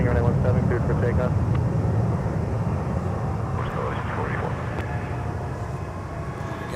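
A jet airliner departs MSP airport from runway 17, its engines producing a steady broadband roar that stays fairly loud throughout and eases slightly toward the end.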